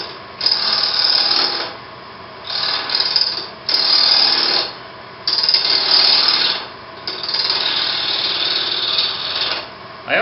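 Wooden sphere turning on a lathe as a cutting tool scrapes it, bursts of loud hissing, rasping cuts with short gaps, close up.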